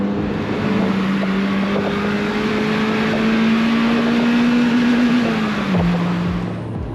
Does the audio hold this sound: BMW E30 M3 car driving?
yes